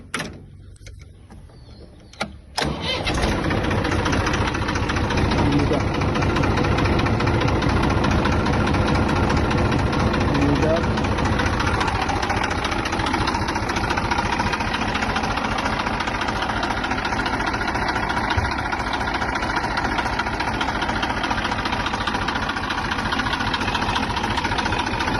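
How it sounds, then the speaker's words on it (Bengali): A TAFE 45 DI tractor with about 3000 running hours cranks and catches after a couple of brief clicks, then settles into a steady, loud, rattling diesel idle that continues unbroken, with no talk over it. "গাড়িটা স্টার্ট দিয়ে দেখাই।"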